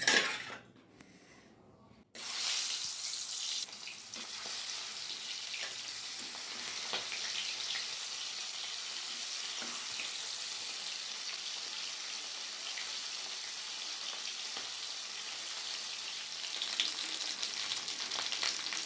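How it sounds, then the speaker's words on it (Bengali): Fish fry in hot mustard oil in a kadai over a gas flame, a steady loud sizzle that runs on after a brief quiet start, with occasional clinks and stirring noises. "তেল গরম হয়ে গেছে, মাছগুলো একটা একটা করে দিয়ে দেবো।"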